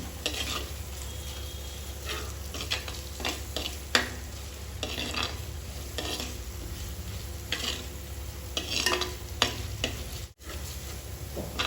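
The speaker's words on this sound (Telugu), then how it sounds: "ఇది కూడా ఆనియన్తో మంచిగా ఫ్రై చేసుకుందాము" Onions with ginger-garlic paste fry in a clay pot for pot chicken fry, a soft continuous sizzle broken by repeated scraping and stirring strokes of a spoon against the pot.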